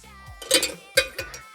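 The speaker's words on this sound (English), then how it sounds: "Go ahead and give that a little stir." Bar spoon stirring a Fuzzy Navel, orange juice topped to the rim, in a glass: a few short clinks and scrapes of metal against glass, close and fairly quiet, with low thumps between.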